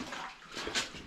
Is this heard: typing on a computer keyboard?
no